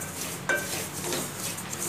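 Dry semolina (rava) is stirred and roasted in a pan over a low gas flame for upma, giving a soft, steady scraping and rustling with one light clink of a spoon on metal.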